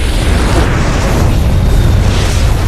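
Explosions from the James Bond film No Time To Die: a loud, sustained blast of broadband roaring and crackling booms that fills the whole stretch, then cuts off abruptly.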